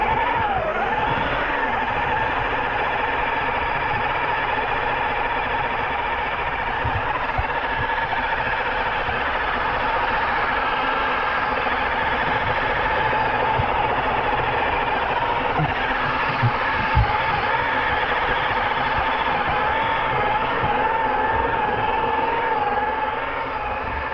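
A LOSI LMT Sunuva Digger RC truck fitted as a snow blower drones continuously as it labors into powdery snow, its pitch wavering and sagging under load with faint knocks.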